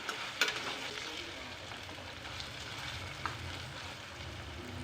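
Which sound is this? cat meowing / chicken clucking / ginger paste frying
ginger paste frying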